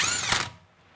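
An impact wrench hammers a lug nut on a Tesla Model 3 wheel during a tire rotation: one loud, close, rattling burst of about half a second that cuts off abruptly into quiet.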